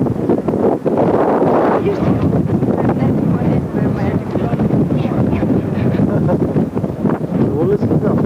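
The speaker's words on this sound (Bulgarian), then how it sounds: "Чува ли се вятър?" Wind buffets an outdoor microphone with low, continuous rumbling gusts throughout, steady and loud, on a hillside setting facing Lycabettus hill in Athens.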